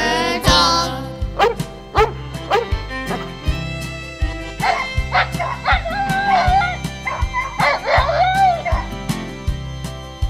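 A Louisiana Catahoula Leopard Dog, a hunting breed of the swamps, gives a few sharp barks and yips near the start, under loud rhythmic music with a voice partway through.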